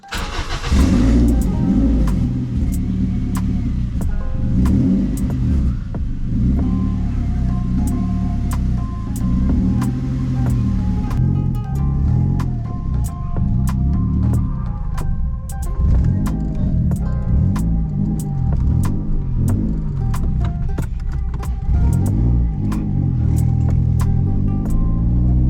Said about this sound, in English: Alright, she's gonna idle pretty rough. Yep, idle's pretty rough.